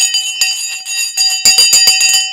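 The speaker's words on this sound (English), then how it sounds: "The bell has now gone." A bell rings in a rapid series of bright, sustained metallic strikes, loud and close, with the tones overlapping into a continuous ringing that grows denser toward the end.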